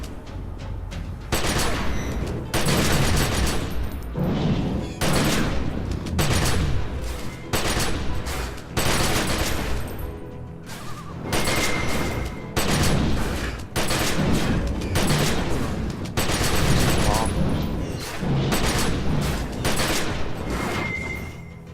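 Gunfire in the video game The Secret World, sustained, loud bursts of rapid shots and blasts in repeated volleys with short gaps, dense throughout.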